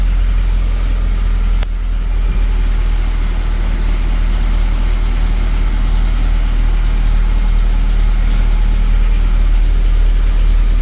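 A car engine running on a P28 ECU fitted with Alpha QM module upgrades, idling with a steady, loud, even drone throughout, one brief click early on, and no voices.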